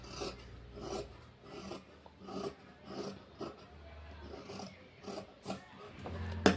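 Scissors cut blouse sleeve fabric, the blades giving a rhythmic series of rasping snips and rubs about once a second, close and moderately loud, with a low hum in the background.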